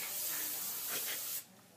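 Aquanet hairspray from an aerosol can, a close, steady hiss lasting over a second before cutting off abruptly into quiet.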